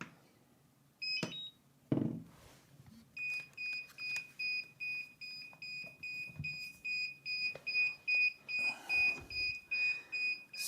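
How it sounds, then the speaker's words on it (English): A HaloRC Pandora CTRL controller, a stripped-down Inspire 2 remote, beeps on power-up with its gimbals off center: a steady train of evenly spaced, fairly loud beeps repeating about twice a second after a few handling knocks and clicks. "when you first power it up, it's going to beep because the gimbals are not in the center"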